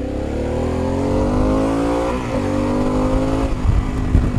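Harley-Davidson Pan America Special motorcycle engine pulling steadily under acceleration, a continuous near drone with rising harmonic tone, easing briefly midway then roughening toward the end, with no talk over it.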